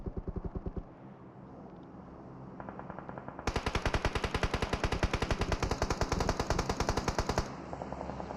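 Rapid automatic gunfire rattles in long bursts during a PUBG match on the Erangel map, thinning briefly before erupting into a loud, dense sustained volley, then easing off at the end.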